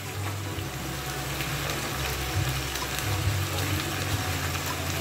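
Water poured into a cooking pan on a stove, a steady close hiss and rush of liquid with a low rumble that keeps on for the whole stretch.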